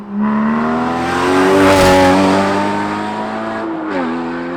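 A Porsche 981 Cayman GT4 fitted with a Fab Speed valved carbon exhaust pulls hard in second gear, its loud rising engine note climbing steadily before a brief dip at a shift and settling back into a strong drone.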